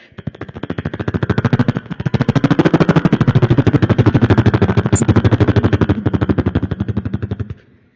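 A beatboxer performs a vocal imitation of a helicopter on stage, a fast steady chopping pulse of rotor-like beats that swells in and runs for several seconds before stopping abruptly.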